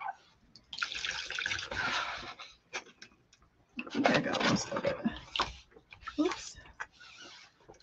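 A silk screen coated with paste is rinsed in water, giving irregular splashing and sloshing bursts, fairly close, with quieter pauses between.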